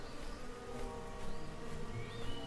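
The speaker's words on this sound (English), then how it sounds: "There's some bees there." Buzzing bees in a video game, a steady insect drone holding at moderate level for the whole stretch over a dense layer of game ambience.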